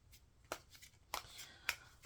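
Quiet, close shuffling of tarot cards: a few short papery riffles and taps spaced about half a second apart.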